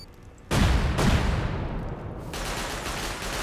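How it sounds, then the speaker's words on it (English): Two C4 charges blast a door in the video game Rust, a pair of loud booming explosions about half a second apart, followed by a lingering rumbling roar that dips and then swells again. "Will that turret survive through the 2 C4 explosions?"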